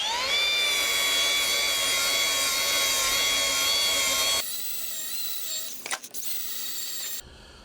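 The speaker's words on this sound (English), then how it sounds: "we're going to just take this down to bare metal so we've got a good surface for the gasket to seal on" A wire wheel grinds a steel boiler manway cover down to bare metal, a loud, steady high-pitched whine under load for about four seconds, then a lighter spinning hum with a brief scraping burst before it cuts out.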